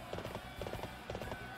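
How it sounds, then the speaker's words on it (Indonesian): Horse hooves clip-clop in the video game Dynasty Warriors 6, a steady galloping rhythm of repeated hoofbeats in quick clusters, fairly faint and blended with game background sound. "itu kuda"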